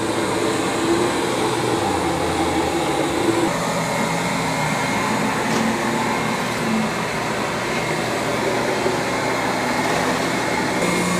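A Roborock Q5 Pro robot vacuum and mop runs across a carpet, giving a steady, fairly loud whirring hum close by that holds constant throughout with no voices.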